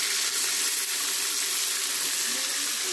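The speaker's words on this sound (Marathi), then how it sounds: "आणि आता मिरचीची फोडणी" Green chilli tempering sizzling in hot oil for an outdoor Konkan feast, a loud, steady, hissing fry that fills the whole moment without a break.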